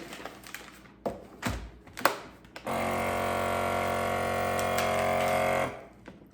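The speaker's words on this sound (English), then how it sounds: "They get vacuum sealed." A vacuum sealer works on a bag of sliced apples: a few sharp clicks and taps, then a steady, loud motor drone for about three seconds that cuts off cleanly.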